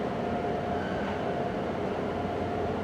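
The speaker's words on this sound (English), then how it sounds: "Oh my gosh, it's an Acela." An Acela high-speed train pulls out of a station with a steady, broad rumble and hiss, close and continuous, with no diesel engine noise and no voices.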